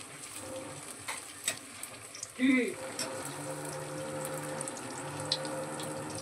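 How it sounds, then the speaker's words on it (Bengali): Malpua palm fritters frying in oil on a low flame, a soft steady bubbling hiss with a few brief clatters and one louder tone, fairly faint and up close. "গ্যাসটা কমিয়ে একটু লাল করে ভেজে নেব।"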